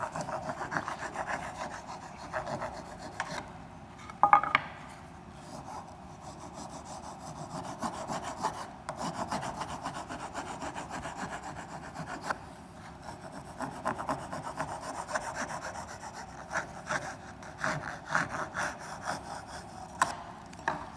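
Toothed wood rasp smoothing the wood of a birdhouse, a continuous close scraping and rubbing in repeated strokes with brief pauses, steady and moderately loud throughout with no talk.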